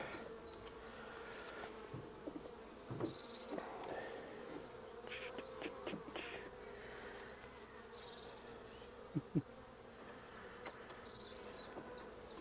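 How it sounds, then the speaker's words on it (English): Honey bees buzz steadily at close range over hive frames of crystallised honey, a dense insect hum with a few soft knocks and clicks scattered throughout. "A few bees on the top of that."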